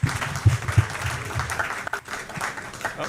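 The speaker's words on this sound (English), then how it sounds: "Ladies and gentlemen, a round of applause, please" Audience applause for a speaker at an actuaries' industry conference, a steady wash of clapping from a crowd that fades slightly toward the end, with a little murmuring underneath.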